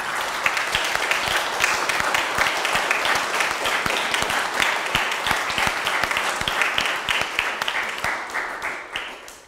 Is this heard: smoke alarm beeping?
no